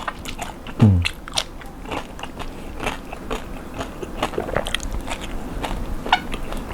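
Crispy roast suckling pig skin crunches under repeated bites and chewing, close to the mouth, with scattered crackles and one louder crunch early on.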